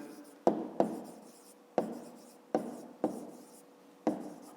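A pen scratches out numbers on paper in a series of sharp, close strokes, each one a quick tap followed by a short scrape, repeated about half a dozen times.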